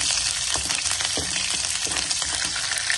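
Green chillies frying in hot oil in a pan for kadhi pakora, a loud continuous close sizzle with crackles and a few stirring scrapes, no talking.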